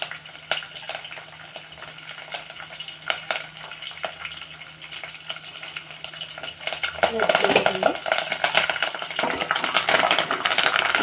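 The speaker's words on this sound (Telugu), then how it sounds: "బాగా వేగనిద్దాం" Frying with curry leaves in a pan: a soft crackle at first, then a louder, denser sizzle and stirring rattle bursting in over the last few seconds.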